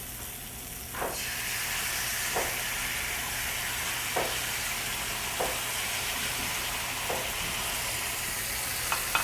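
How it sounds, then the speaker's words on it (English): Zucchini and summer squash sizzling in a pan, a constant soft hiss with occasional light stirring scrapes at a steady pace, close and alone without talk. "Let the zucchini and summer squash cook the rest of the way through."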